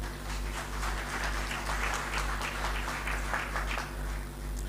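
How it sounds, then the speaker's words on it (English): An audience at a justices of the peace session on community trust applauds steadily, a soft wash of many hands over a low background hum, fairly distant. "Can we give them a round of applause?"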